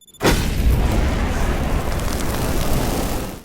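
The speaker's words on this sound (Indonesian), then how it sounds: "ledakan tersebut menewaskan semua anak buah Bulog dan Bulog terluka parah" A loud explosion bursts suddenly, then a deep rumbling roar rolls on for several seconds before cutting off.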